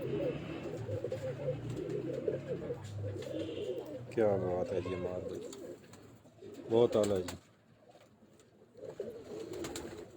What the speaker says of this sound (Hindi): ये मेरे रामपुरी कबूतर हैं जी